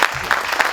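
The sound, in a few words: audience applause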